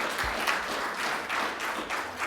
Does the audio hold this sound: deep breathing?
no